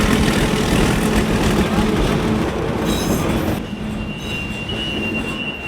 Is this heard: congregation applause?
no